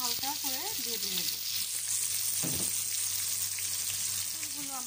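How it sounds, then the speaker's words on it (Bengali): Pointed gourd (potol) pieces sizzle steadily in hot oil, a constant broadband frying hiss with a brief stirring scrape midway, while a voice speaks softly over the start and end. "পটলগুলো আমি ভাজতে দিয়ে দিয়েছি। পটলগুলো আমি হালকা করে ভেজে নেব।"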